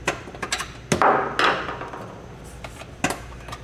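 A plastic clip is pried and pulled free from a vehicle trim panel during a front-mount trailer hitch installation, giving a few sharp, close snaps and knocks, with the loudest bursts coming in the middle.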